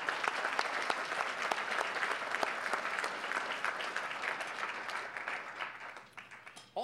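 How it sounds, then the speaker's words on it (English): An audience at a Rancho Cucamonga State of the City address breaks into sustained applause for city staff, dense clapping that holds steady and then tapers off near the end. "how about if we give our staff a big round of applause?"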